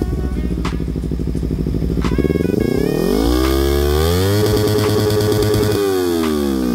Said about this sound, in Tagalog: Sound check, Yoshimura Alpha